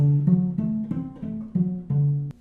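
A cello plays a run of about seven bowed notes in steady succession, low and resonant, stepping through a dominant seventh chord shape up close.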